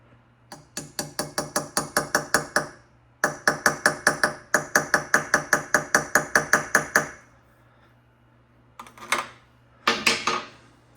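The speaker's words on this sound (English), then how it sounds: "you might need a hammer." A hammer taps a carburetor float pin in a rapid series of sharp metallic taps in quick bursts, close and fairly loud, with pauses between runs and a couple of heavier strikes at the end.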